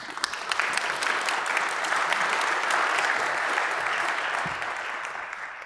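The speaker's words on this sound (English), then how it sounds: "A round of applause," An energy conference audience claps steadily and warmly for several seconds, a dense even wash of applause that tapers slightly at the end.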